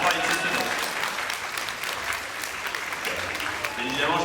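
Convention talk audience clapping for the technical crew, a continuous moderately loud wash of many hands from a sizable crowd, steady throughout with slight swells.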